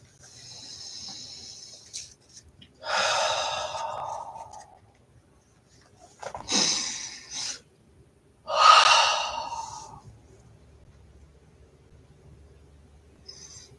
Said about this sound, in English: drop into your heart's awareness by lightly placing one or both hands on your chest, over your heart, and breathing gently